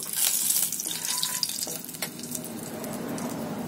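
Spice paste for mustard hilsa hits a hot frying pan and sizzles, a steady hissing crackle with a few brief clinks early on, close and continuous with no talking.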